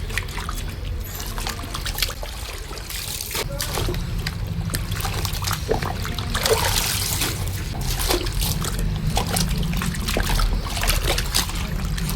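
Water runs steadily into a container for cleaning mats, a continuous close splashing and trickling stream with faint voices in the background.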